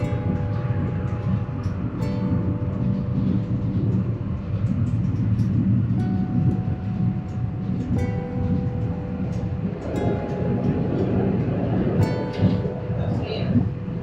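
Loud, continuous rumble of a train moving through a tunnel up Montjuïc hill in Barcelona, with sustained whining tones rising and shifting as the carriages roll along.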